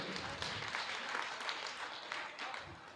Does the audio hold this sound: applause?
yes